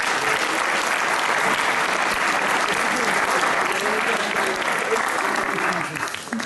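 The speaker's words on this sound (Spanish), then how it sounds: "Un aplauso para Lolo, que está ahí." An audience gives sustained, loud, dense applause that holds steady and begins to thin out near the end, with voices audible beneath the clapping.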